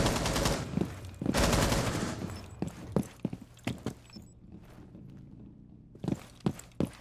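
Video game gunfire comes in short bursts: two dense, loud volleys at the start, then scattered single shots and thumps, moderately close, with no one talking.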